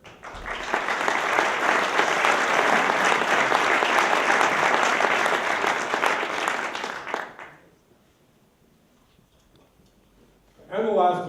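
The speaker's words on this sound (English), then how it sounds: "Let's give a round of applause to the Inquirer and Mirror." An audience claps for the Inquirer and Mirror at a journalism awards ceremony, a loud sustained round of applause lasting about seven seconds, then fading into near silence before a voice begins speaking at the end.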